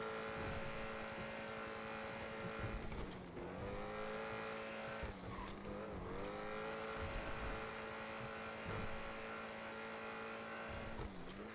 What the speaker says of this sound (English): Obscenely fast this car is